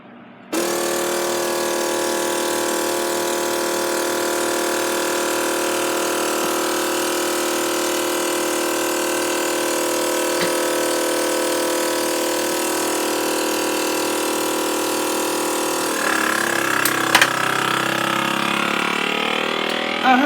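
A SUNGLIFE food vacuum sealer pump runs in pump mode with a loud, steady motor drone that holds for about fifteen seconds, then shifts in pitch near the end.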